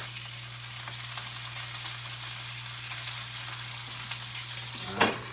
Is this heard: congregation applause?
no